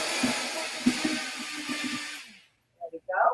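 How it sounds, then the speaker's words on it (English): A blender pureeing food whirs loudly and steadily for about two seconds, then cuts off, followed by a brief burst of speech. "you want to plug your blender in first"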